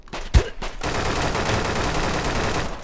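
Gunfire in the Deadside video game: a sharp close shot opens, followed by a sustained dense rattle of rapid fire that carries loudly to the end, with no talk.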